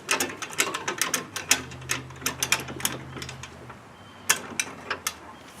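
Metallic clicks and ratcheting from bolt work on a 2005 Chevrolet Cobalt repair, arriving in quick irregular bursts of sharp close taps with a brief pause, then a few more clicks.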